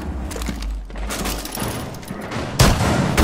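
Gunfire in the video game Rainbow Six Siege: a burst of close, loud shots with splintering impacts, followed by a heavier blast near the end.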